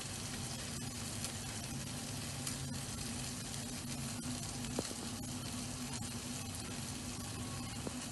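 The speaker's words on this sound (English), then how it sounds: "I can hear the sizzling already" Olive oil sizzles steadily in a pan, a continuous dense frying hiss with faint scraping clicks of a spatula, as the base is browned before an egg and cheese omelet goes in; no one speaks.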